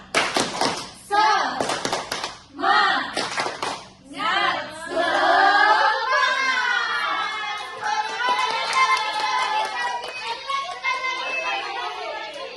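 Schoolchildren in a classroom perform the rhythmic clapping chant tepuk semangat, with bursts of sharp hand claps in patterned rhythm followed by loud group chanting voices, close and lively.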